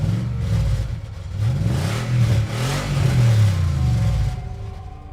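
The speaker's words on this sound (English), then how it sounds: "even hear the engine of the old Mustang revving up." An old Mustang engine revs up in repeated rising and falling surges, loud and close, with a throaty roar that climbs in pitch before easing back toward idle at the end.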